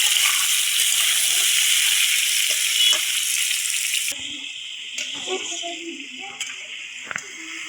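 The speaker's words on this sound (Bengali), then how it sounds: "তা আলুগুলো কিন্তু এখন আমি হলুদ দেই না, সেই লবণ দিয়ে ভাজতেছি" Potatoes fry with salt in oil in a wok, cooked outdoors on a foggy winter morning: a loud, steady sizzle that suddenly drops to a quieter fizz broken by light utensil knocks.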